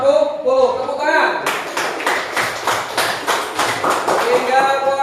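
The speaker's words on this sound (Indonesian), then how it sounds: "Tepuk tangan." After a brief spoken word, a classroom group of students breaks into loud, rhythmic clapping with evenly spaced beats, and voices mix in near the end.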